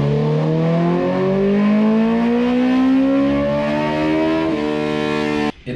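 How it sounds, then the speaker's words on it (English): A 2020 BMW S 1000 RR race bike engine on a dyno during break-in, revving loud and close with a steadily rising whine, a gear change near the end, then a sudden cut. "I'm going to do my engine break-in"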